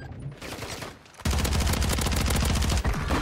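StG assault rifle in a Call of Duty match firing a rapid, loud, sustained automatic burst that begins suddenly after a quieter stretch and briefly breaks near the end before resuming.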